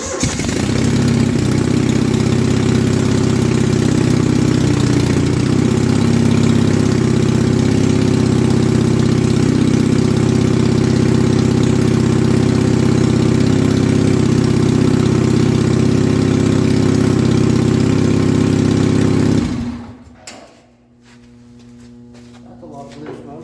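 A 1971 Gravely 450 walk-behind tractor engine idles at low throttle, a steady loud low-pitched running drone for about twenty seconds before it cuts off abruptly into quiet.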